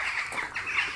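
Birds call outdoors in a short burst of bright, repeated chirps and squawks, fairly close, with low background noise and nobody talking.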